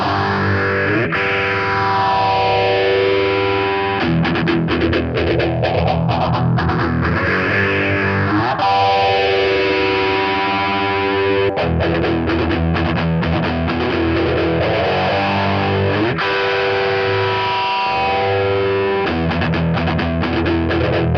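Electric guitar played through a modulation effects pedal, with distorted chords and riffs carrying a sweeping, swirling chorus-like warble that rises and falls continuously. It plays loud and alone, without speech.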